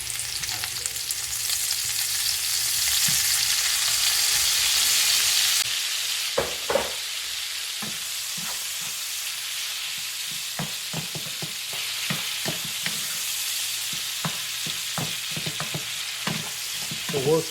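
Shrimp frying in a garlic butter sauce for mofongo, a steady close sizzle with repeated scraping and stirring taps as the pan is worked.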